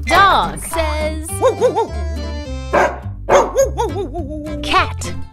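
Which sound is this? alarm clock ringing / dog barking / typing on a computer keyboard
dog barking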